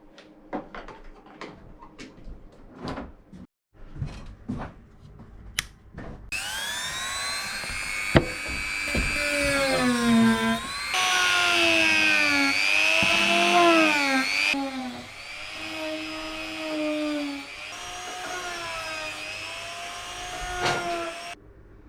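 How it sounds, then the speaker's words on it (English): A power sander working rust off a steel hammerhead, a loud sustained whine that rises and falls in pitch as pressure shifts, preceded by scattered knocks and clicks while the tool is set up. "I have finished sanding down the hammerhead"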